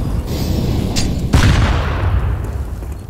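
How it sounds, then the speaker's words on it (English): A grenade in Counter-Strike on the Inferno map lands and explodes with a single loud, close boom midway, over a steady background of game noise. "I am throwing a grenade."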